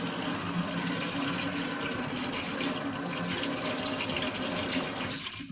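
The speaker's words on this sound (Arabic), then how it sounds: "هنملى الميه على الاخر اهو" Water rushing steadily into a bottle as it is filled to the top, a continuous close splashing flow with no talk.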